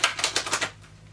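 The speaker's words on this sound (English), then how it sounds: "One more shuffle." A tarot card deck is shuffled in a quick burst of about six crisp, riffling card snaps close to the microphone, then stops, leaving a quiet hum.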